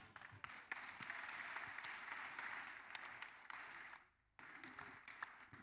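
Audience applause at a church testimony service, a sustained wash of many hands clapping at a faint level, briefly dropping away before resuming.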